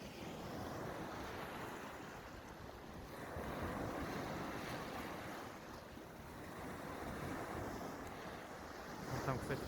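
Sea waves wash onto the shore in slow surges under steady wind buffeting the microphone, the surf swelling and easing in broad, continuous rushes.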